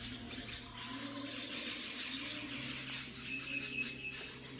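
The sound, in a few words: birds singing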